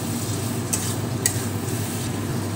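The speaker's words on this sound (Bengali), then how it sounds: "দিয়ে আলু দিয়ে আবার মশলাগুলোকে একটুখানি কষিয়ে নেব" Fried potatoes and spices are stirred in a pan for a Bengali mochar dhokar dalna, giving a steady low sizzle with two sharp utensil scrapes close by.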